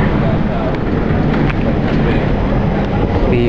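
A train running on railway tracks, a dense, steady rumble mixed with wind buffeting at the microphone, loud and close throughout.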